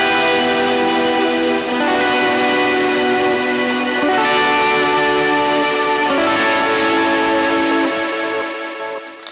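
Electric guitar plays a chorus riff of big strummed rakes through a first-stage Kilt overdrive pedal, thick distorted chords sustaining densely with reverb and delay, loud and continuous with no talking.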